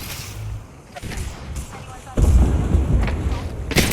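An explosion in the video game Apex Legends, a sudden heavy low boom that rumbles on for a couple of seconds, heard after some muffled thumps.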